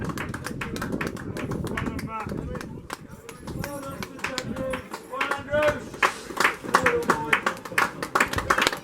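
Footballers clapping their team off the pitch after an amateur match between The Lions and St Andrews FC, with brisk uneven hand claps building toward the end and voices talking throughout.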